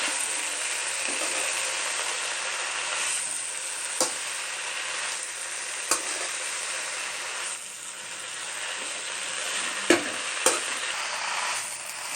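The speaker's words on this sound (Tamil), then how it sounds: "இப்போ இதை நம்ம நல்லா வதக்கி எடுக்கலாம்." Mint leaves sauté in a pan with a steady, close sizzle and frying hiss, broken by a few sharp clicks of a utensil striking the pan.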